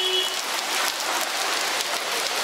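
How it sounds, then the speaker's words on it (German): Steady rain falls on surfaces along a street in India, a dense, even hiss with scattered drop patter throughout, no voices. "Nimmt der Regen aber auch langsam zu."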